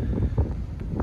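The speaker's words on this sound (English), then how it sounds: "Bit windy today, as you can see on the water." Low, gusty wind buffets the microphone with a dull rumble beside fishing pools, steady with small surges and no voices.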